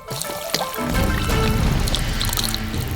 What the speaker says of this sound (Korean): 그리고 물을 부어주세요